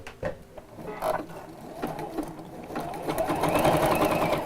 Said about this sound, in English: So I'm going to do a zigzag stitch,